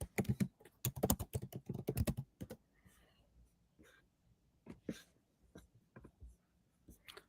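Close, quick typing on a computer keyboard in bursts of rapid clicks, then a few scattered, softer keystrokes with brief pauses, over a quiet room.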